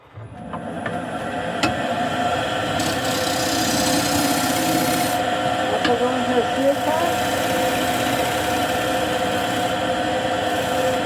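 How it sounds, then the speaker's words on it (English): A lathe hums steadily as a shear scraper scrapes a turned walnut bowl, a continuous close rubbing rasp with a few sharp ticks, while someone talks over it. "Now I'm going to scrape this just to get a nice even surface. So I'm just going to use my shear scraper or bowl scraper."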